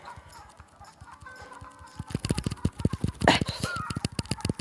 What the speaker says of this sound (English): More hens! They're hens.